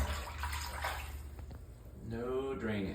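Water runs from a tap into a shower pan during a drain test in a flip house, a steady splashing rush that swells briefly near the end.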